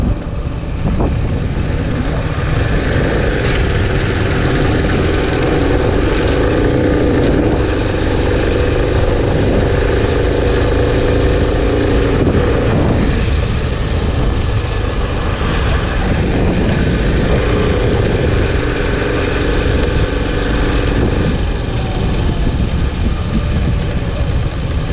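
A Keeway RKS 100 V3 motorcycle being ridden on a road, with a steady, loud engine drone and heavy wind rush that continue without a break, slight shifts in pitch along the way, and no speech.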